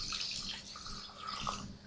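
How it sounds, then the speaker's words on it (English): Alkaline water pours steadily into a pot of rice, a soft continuous splashing trickle, moderately close with no talking. "Put some alkaline water in."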